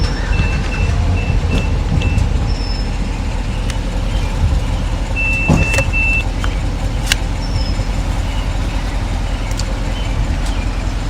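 A storm-chase vehicle parked in the Pittsburgh area sounds a few short electronic beeps over a steady loud engine and road rumble.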